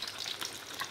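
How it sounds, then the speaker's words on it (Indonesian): Patin catfish frying in oil gives a continuous bright crackling sizzle, close and steady throughout, with no voices. "Ini saya goreng patin, ikan patin ya."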